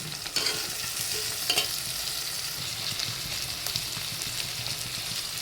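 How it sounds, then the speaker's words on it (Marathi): Onion and tomatoes sauté in a pan with a close, constant sizzle and light, regular stirring scrapes throughout. "आता टोमॅटो टाकून घ्यायचे परतून"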